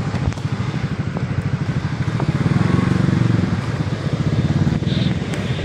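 Motorcycle engines putter steadily nearby on a road in Tanay, Rizal, Philippines, a continuous mid-pitched idle and rumble swelling slightly, with people chatting close by.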